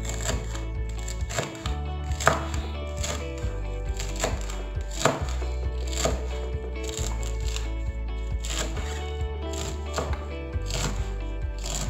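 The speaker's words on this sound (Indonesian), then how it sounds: "Daun bawang dan daun seledri. Kita iris juga." A knife slicing scallions and celery leaves on a cutting board, rapid continuous chopping taps close up, set over steady background music throughout.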